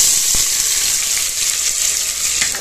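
Onion sizzles steadily in a hot pan with cumin and red chili tempering, a loud continuous frying hiss with no pauses.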